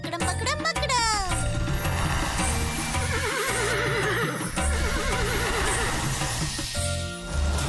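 A horse neighs in a loud, wavering whinny near the start of a children's magic show scene, set among music, effects and children's voices talking.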